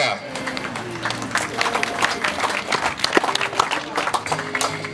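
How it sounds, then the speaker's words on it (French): An outdoor crowd at a French cycling race claps for a local rider being honored, the dense patter of hands sustained under a continuing announcer's voice and background music. "Je vous demande d'applaudir le coureur de Voiron, Nicolas Fritsch."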